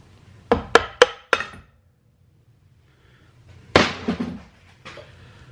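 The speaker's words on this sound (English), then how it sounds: "I'll take the top nut off. I'll just strip it down." Stripping down a smoking eBay GT3076 turbocharger, loosening the top nut: four sharp metallic taps in quick succession, a pause, then a louder clattering knock with trailing rattles, close and with no talking.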